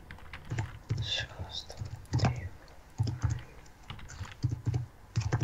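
Fingers type on a computer keyboard during Minecraft play, rapid close clacking in uneven bursts, with a voice speaking quietly between the keystrokes.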